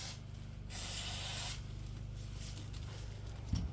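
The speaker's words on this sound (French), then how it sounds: "je prends la bombe d'acétone qui m'a été fournie" Acetone spray can fired in a steady hiss lasting over a second, then easing into a quieter continuous rush with a low hum beneath; no talking, close to the mic.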